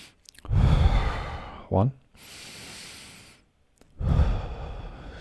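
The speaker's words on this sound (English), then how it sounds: "Take in 3 deep breaths" Deep breaths taken one after another, a long rushing inhale and exhale close to the microphone, a pause, then another heavy breath, with a short word spoken between them.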